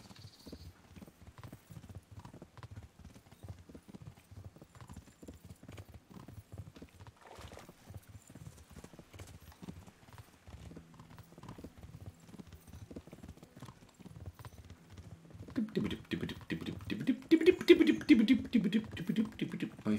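Horse hooves in the video game Kingdom Come: Deliverance clip-clop steadily at a trot, quiet at first, then a louder, faster gallop with added rumble near the end.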